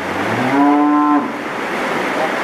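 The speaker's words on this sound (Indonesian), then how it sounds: "Ada sapi limusin dan juga sapi simental, tapi kebanyakan sapi-sapi simental ini" A Limousin or Simmental cow lets out a single loud, close moo inside a barn, a long tonal call that fades into quiet room noise.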